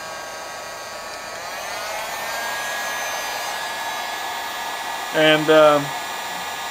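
A heat gun blows a steady whirring hiss while shrinking heat shrink tubing over boat wiring on a Carolina Skiff 21LS. A short burst of voice breaks in near the end.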